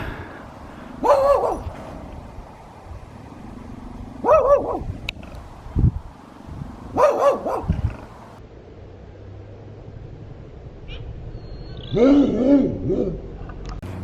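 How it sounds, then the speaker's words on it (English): A dog barks in spaced-out bursts of a few deep, hoarse barks each, fairly distant, with quiet gaps between them. "So we've got this dog barking."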